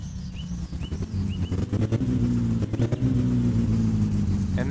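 Car engine in the My Summer Car video game revving and misfiring while tuned at the carburetor throttle linkage, a loud uneven idle rising to revs with stumbling, popping beats.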